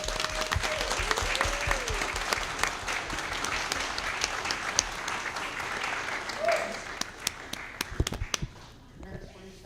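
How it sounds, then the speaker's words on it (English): An audience at a school board meeting claps steadily for several seconds, applause tapering off at the end, with a voice speaking over it. "So a round of applause for Mike."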